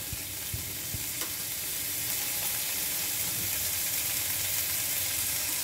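Drained rice frying in a pan with coriander, ginger and garlic, giving a steady close sizzle and crackle with a few soft stirring knocks near the start; no one speaks.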